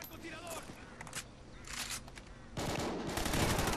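Burst of automatic gunfire in the Call of Duty: Ghosts video game on Xbox 360, rapid crackling shots over game sounds, swelling louder near the end, with speech in the mix.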